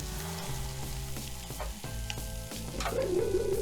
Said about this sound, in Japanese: 焦がさずにバターが透明になったところで火を止めていきます